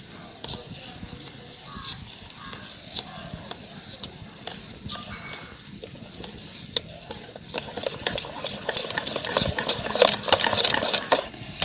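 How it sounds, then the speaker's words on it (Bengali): Semolina being stirred into an eggless cake batter in a bowl: a soft, wet scraping that grows busier and louder in the second half, with quick clinks of a spoon against the bowl. "এবার সেই 1 বাটি সুজি এর মধ্যে নিয়ে খুব ভালোভাবে মিশিয়ে 10 মিনিট ভিজিয়ে রাখবো।"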